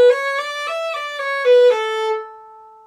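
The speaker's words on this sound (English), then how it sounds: "bowed instruments can play notes with no gap between them whatsoever" A solo violin plays a smooth run of connected legato notes under a single bow stroke, each pitch sliding into the next without a gap, then holds a final note that fades out, close and clear.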